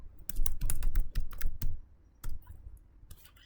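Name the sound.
typing router configuration commands on a computer keyboard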